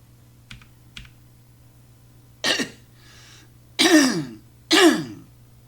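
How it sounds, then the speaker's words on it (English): Three loud, close throat clearings, each a rough rasping burst, spaced apart against a steady low hum, after two faint soft clicks near the start. "Sorry about having to clear my throat."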